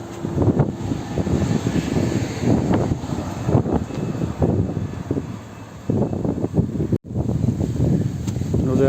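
Strong wind buffets the microphone on a beach by the fence between Britain and Spain, a loud continuous roar that surges and dips, briefly dropping out for a moment.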